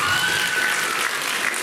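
Loud, dense audience applause at a children's variety concert, a continuous wash of clapping filling the room without pause.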